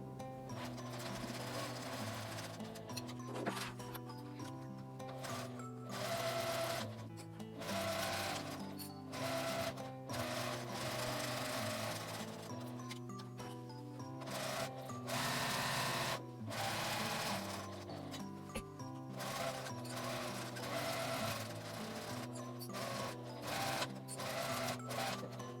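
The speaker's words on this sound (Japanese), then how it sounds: "返し口9センチを開けて1センチの縫い代で縫います。" A sewing machine runs in steady bursts of fast, rhythmic stitching with short pauses between runs as it sews the lining fabric of a small cosmetic bag with a 1 cm seam allowance. The motor and needle sound close and even.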